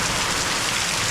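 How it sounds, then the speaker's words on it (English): Rain pouring onto an above-ground swimming pool and its surroundings, a loud, close, unbroken wash of drops and splashes with no voices. "we're just gonna wait till this rain flows through"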